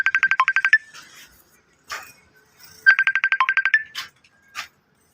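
A phone ringtone for an incoming call, loud and close, with a rapid run of bright electronic tones, a pause with a few clicks, then the same trilling pattern repeating.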